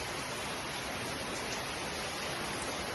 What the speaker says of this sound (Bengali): আপনাদেরকে একটা বস্তু দেখানোর জন্য এই ভিডিওটা করা, সেটা হলো বৃষ্টি